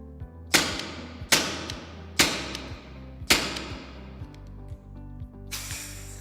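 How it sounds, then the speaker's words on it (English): A CO2 paintball pistol is dry-fired repeatedly, with four sharp hissing pops of gas releasing at an irregular pace, then a longer softer hiss as the remaining CO2 bleeds off, close and loud. "Simply dry fire the unit without the projectiles until the CO2 is completely bled off"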